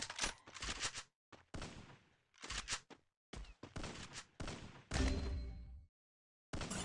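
Gunfire in the video game Free Fire comes in several loud, rapid bursts separated by short silences, close and sharp, with no talking.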